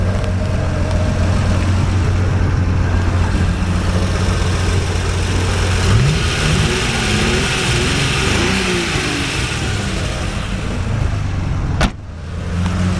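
A 1974 Jaguar XKE V12 Roadster runs steadily with a low, even engine drone, a brief rising tone midway, and a sharp click near the end.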